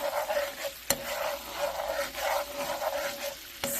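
Amber jelly roll mushrooms and vegetarian chorizo being stirred in a pan, a steady close sizzle with scraping strokes and a couple of sharp utensil knocks against the pan.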